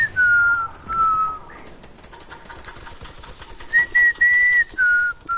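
A person whistles a short tune in a few sustained, wavering notes separated by pauses, fairly close and clear over a low background rumble.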